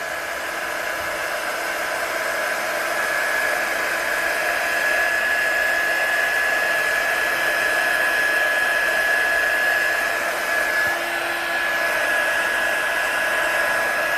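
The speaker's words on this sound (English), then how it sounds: "When I'm absolutely happy it's to its highest temperature, then I'm going to heat set it" Heat tool on its highest temperature setting blows continuously to heat-set stamped ink, a steady close whirring roar with a thin high whine that holds evenly throughout.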